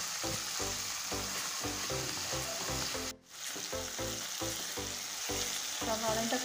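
Onion and tomato with salt sauté in a pan for prawn masala curry, giving a loud, steady sizzle broken by rhythmic stirring scrapes and a brief pause midway, close up with no talking.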